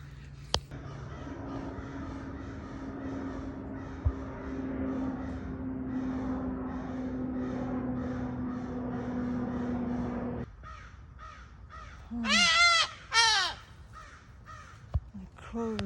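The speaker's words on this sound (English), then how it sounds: "The crow is making a lot of drama." Crows caw outdoors: two loud, harsh bursts of cawing stand out near the end, following a long stretch of steady droning background noise.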